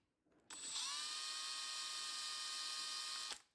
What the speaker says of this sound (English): I'm just going to bring the drill down on that.